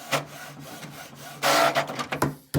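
A Canon TS6520 inkjet printer printing a page, with mechanical whirring and a loud burst of paper feeding midway, then scraping clicks and a final sharp mechanical clunk, close up.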